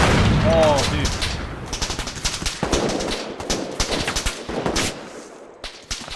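Rapid automatic gunfire and scattered shots crackle through an ARMA 3 firefight on the tropical Tanoa map, loud and continuous with bursts overlapping, dense at first and then thinning into irregular volleys.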